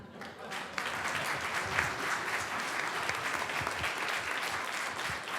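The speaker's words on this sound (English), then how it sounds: "Please join me in giving another round of applause to Mr. Ninan." A seated audience gives a sustained round of applause after a talk, a dense, even patter of many hands clapping that holds steady for several seconds at moderate volume.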